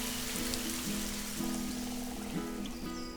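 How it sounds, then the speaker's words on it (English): Warm rain falls steadily on red soil, a dense even patter under a low, wavering hum, continuous and moderately close. "felt the warm raindrops tapping on her hands"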